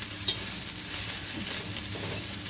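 Cooked rice and sausage stir-fried for nasi goreng in a hot pan, with a steady close sizzle and the scrape of stirring throughout, no talk.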